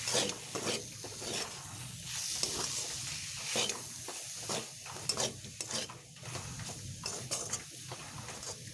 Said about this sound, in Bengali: সানরাইজ শাহি গরম মশলা দিয়ে আমি একটু ভালোভাবে এগুলোকে মিশিয়ে নিচ্ছি